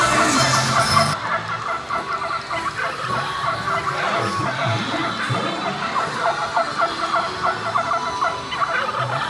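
Turkey gobble effects fill a shooting dark ride called Gobbler Getaway at a holiday theme park night event, repeated gobbling calls layered over busy ride noise and sound effects throughout.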